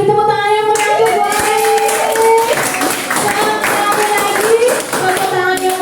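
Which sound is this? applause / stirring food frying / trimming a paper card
applause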